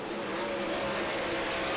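World of Outlaws sprint cars race into a corner at Devil's Bowl Speedway, a loud, sustained engine roar filling the whole stretch with a steady droning pitch.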